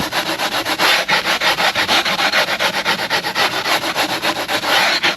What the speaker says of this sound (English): sometimes you can just use a sanding block for small amounts.